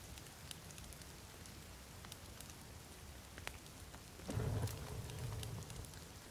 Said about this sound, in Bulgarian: То вали малко, само съвсем малко вали. Ситен дъжд.